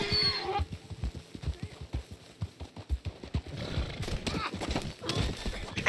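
Donkey hooves clip-clop in a steady rhythmic gait in the Red Dead video game, with a short whinny-like call at the start and busier rustling and footfalls near the end.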